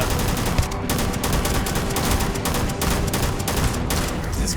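Rapid sustained gunfire from a weapon in the space game Starfield, a dense continuous fusillade of loud shots filling the whole stretch with no talking over it.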